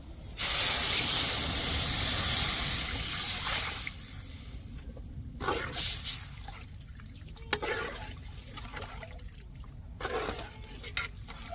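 Dissolved tamarind water poured into a simmering leather jacket fish curry sets off a loud, spraying hiss for a few seconds, which then eases into a softer, uneven bubbling and sputter.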